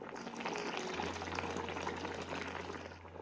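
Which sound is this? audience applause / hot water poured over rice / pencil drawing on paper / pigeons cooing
hot water poured over rice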